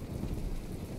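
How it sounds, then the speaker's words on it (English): Heavy rain and a deep thunder rumble from a stormy sea in the naval building game From the Depths, a dense, loud, continuous wash of noise with no voices. "It started to rain out of nowhere. And thunder, wow."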